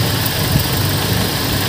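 A rebuilt Toyota 7K engine runs after a head gasket repair and oil and filter change, a loud, steady idle heard close with a constant broadband rumble and no voices.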